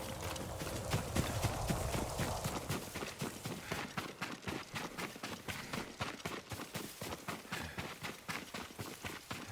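Horse hooves clip-clopping in Ghost of Tsushima, a steady, close rhythmic trot that runs the whole time with no talking over it.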